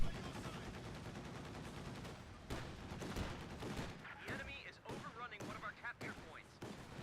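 Gunfire crackles through a World War II–style video game battle between tanks and infantry, bursts of shots and distant explosions mixed under a caster's continuous commentary.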